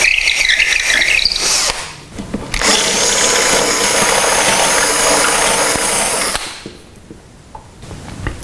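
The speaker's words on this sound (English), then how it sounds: "So now I'll go up to 1 drill bit size." A power drill bores a hole with a larger bit while building a rocking chair prop: a high whining squeal, a short pause, then a long steady loud grinding run that cuts off, followed by quieter spin-down.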